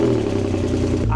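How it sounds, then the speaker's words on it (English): A Porsche 996 engine runs with its exhaust silencers missing, giving a loud, raspy, harsh drone heard up close for about a second before a voice cuts in. "I previously mentioned the sound of this exhaust,"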